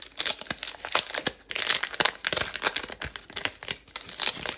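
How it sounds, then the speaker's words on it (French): Crinkly foil wrapper of a Pokémon card booster pack torn open by hand, a close series of sharp crackling rips and crumples in irregular bursts, with a brief pause partway through. "Si j'arrive à ouvrir le booster déjà."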